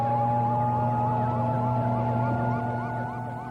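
A wailing police siren on an emergency unit vehicle in 1978 Hong Kong, rising and falling in quick repeated sweeps over a steady engine drone, loud and close before easing slightly at the end.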